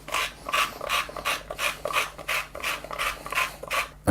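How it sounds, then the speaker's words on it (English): Hand spice grinder crushing toasted cumin seeds, a rhythmic gritty rasping in about ten even strokes, close and fairly loud with no talk. "I've got a grinder. So I'm going to grind that in."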